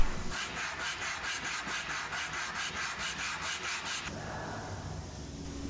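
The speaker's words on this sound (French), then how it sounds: "Un petit coup de cale à poncer pour que ça rentre mieux." A wooden part of a baby's rocking cradle is rubbed with a sanding block in quick, even back-and-forth strokes, about a dozen regular passes, close and clear, then the scratching stops and only faint room noise remains.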